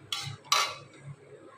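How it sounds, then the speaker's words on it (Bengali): Paneer and potatoes stirred in a pan with spices: two quick, close spoon scrapes and clinks against the pan with quiet pauses between them, no voices. "আমি এই পনিরগুলো এবার আলুর সাথে মিশিয়ে আরও কিছুক্ষণ একটুখানি কষিয়ে নেব"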